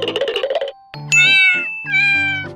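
A cat meows loudly and close by, two long drawn-out wailing calls following a quick run of rattling, jingling taps.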